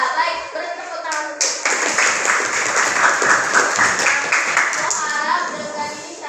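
A classroom of high school students breaks into loud clapping after a teacher's voice, the applause swelling quickly and continuing steadily, with voices and children's chatter mixed in.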